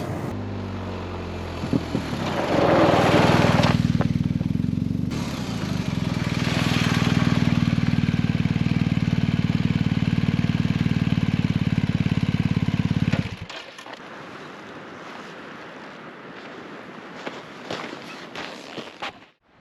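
BMW R 1250 GS Adventure motorcycle being ridden, a loud steady engine drone with wind noise for about thirteen seconds, then a sudden drop to quieter ambient sound with faint clicks.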